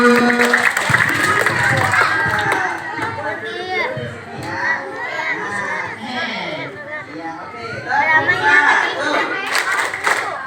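A children's audience at a storytelling session bursts into clapping and lively chatter, with kids' voices and an adult speaking over the uneven, rising and falling applause throughout.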